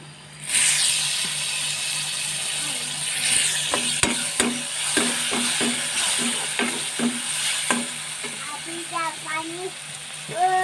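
Tomato tipped into a hot pan of sizzling Maggi masala for pasta, with a steady fry hiss and repeated sharp scrapes of a spoon stirring, plus a short murmur of voice near the end.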